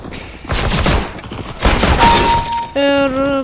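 Bursts of rapid gunfire in Counter-Strike: Global Offensive on a Baggage/Shoots map, loud and close, with crackling impacts and a glassy shatter-like edge, ending in a brief tonal game sound.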